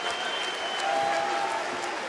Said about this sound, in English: the crowd here, happy, excited for what has been on offer.